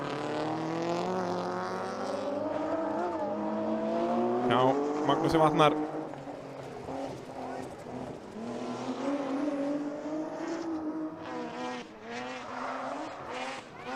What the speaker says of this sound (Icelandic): Af hljóðið í þessum bíl.